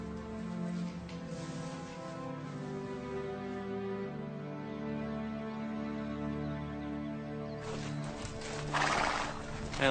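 Horses whinnying and neighing in drawn-out calls, with clip-clopping hooves and a burst of louder noise near the end.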